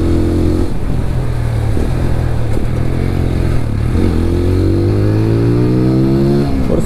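A TVS Apache RTR 200 4V Race Edition motorcycle with slipper clutch and five gears is ridden, its engine droning loudly and steadily, dipping between gears and then rising again in pitch as it accelerates.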